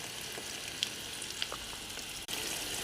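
Green chili paste sizzles and fries in hot oil with curry leaves, dried red chilies and a little turmeric, a steady close crackle with a few brief pops.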